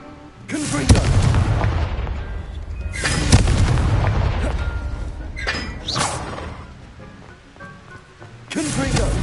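Explosions from the Confringo blasting spell in the video game Hogwarts Legacy, a series of heavy booming blasts with rumbling tails, several in a row, with a voice speaking between them.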